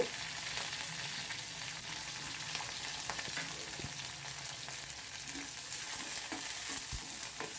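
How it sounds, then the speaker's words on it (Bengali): Beans and carrots fry lightly in white oil, producing a soft, even sizzle with scattered stirring clicks and scrapes; fairly quiet and steady, no talking. "এই সাদা তেলের মধ্যে কিছু উচনো সবজি বিনস এবং গাজর এর মধ্যে দিয়ে দিয়ে এটাকে হালকা করে"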